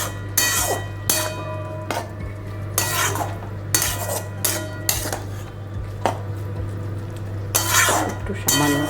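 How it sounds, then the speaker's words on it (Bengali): Soft leafy greens are stirred in a metal cooking pot, with a spatula striking and scraping the pot in a steady rhythm of loud clanks about once a second over a low hum and faint sizzle. "সুন্দর করে মাখিয়ে নাড়তে নাড়তেই সিদ্ধ হয়ে যাবে"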